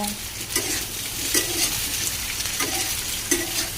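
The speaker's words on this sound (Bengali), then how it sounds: "গা থেকে তেল ছেড়ে দিলে ওতে আলু আর পটলটা যোগ করব" Potato and pointed gourd fry in hot oil in a pan, stirred with repeated scrapes over a steady close sizzle.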